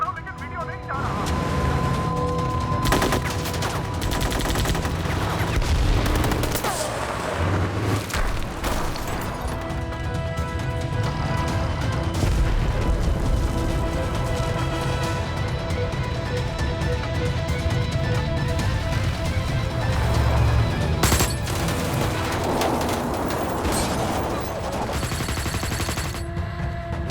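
Gunfire rattles through a movie shootout during an attack in Mumbai, with repeated shots and booms over a dense, loud soundtrack and voices talking throughout.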